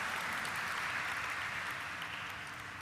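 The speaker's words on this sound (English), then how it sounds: "So again, a large round of applause." Sustained applause from an audience at a company stock listing ceremony for Fedbank Financial Services, a steady dense wash of clapping held at even strength throughout, heard from a moderate distance with no talking over it.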